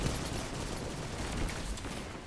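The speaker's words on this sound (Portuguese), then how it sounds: "foi um tiro, camarada, aqui" Gunfire in the video game Destiny 2, a dense, noisy burst of rapid shots and crackling impacts, faint and continuous throughout, with no talking.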